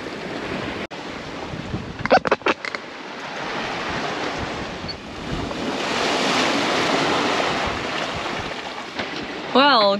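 Ocean waves and wind wash around a solo sailing boat at sea, with a continuous roar of surf and gusting wind over the hull, a few creaks and knocks, and a warbling tone near the end.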